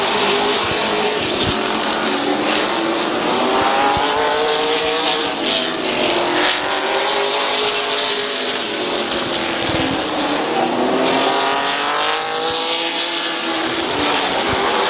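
Race trucks roar around Midvale Speedway during a CRS Truck Season Championship night race, a loud continuous blend of engines rising and falling in pitch as they pass close by, with no voice.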